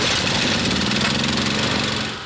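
A steady, droning engine runs continuously at close range, a generator's constant mechanical hum with a rough, buzzing texture.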